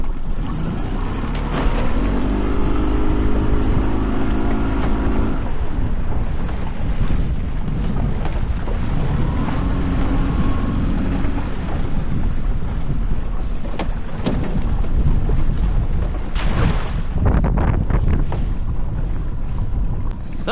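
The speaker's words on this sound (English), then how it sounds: "now the wind's come up and it's getting really cloudy." Strong wind roars steadily across the microphone outdoors while fishing under a clouding sky, a loud, continuous rushing with constant buffeting and no pauses.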